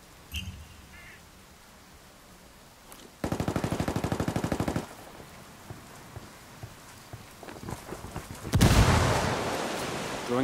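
Gunfire in Ghost Recon Wildlands: a sustained automatic burst rattles out for about a second and a half, followed by scattered single shots and a loud blast of heavy fire near the end.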